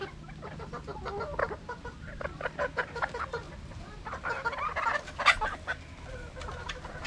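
Kelso chickens and a rooster cluck and chatter on a poultry farm, a scatter of overlapping clucks and short calls at moderate distance that swell briefly near the end, with no talking.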